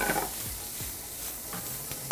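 Mushrooms for a Florentine omelette sizzle quietly in a pan, a steady low hiss with a few soft scraping stirs, no voices.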